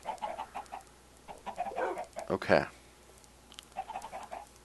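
Minecraft chickens cluck in short, soft bursts in a game, fairly quiet, with one louder squawk midway and a person speaking briefly over them.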